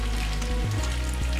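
Food frying in ghee in a pan, a continuous close sizzle under a low steady hum, brief and without talking.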